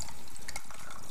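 Homemade green juice pours into a half-gallon mason jar, a continuous close liquid splashing and trickling sound without a break.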